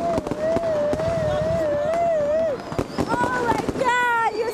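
New Year's Eve fireworks in Amsterdam crackle and thud in sharp repeated bursts, with whistling rockets sliding in pitch over a constant crowd roar and scattered voices.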